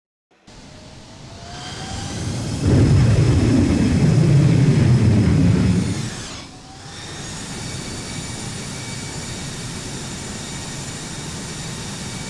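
Simulated X-Crafts ERJ-190 jet on approach to a runway in X-Plane 12, a steady engine roar that swells louder through the middle with low rumble, then drops back to a constant whine and hiss.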